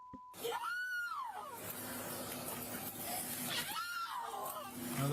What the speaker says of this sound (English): Another goat scream.